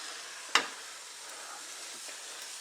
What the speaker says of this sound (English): Look how low I can get that to simmer.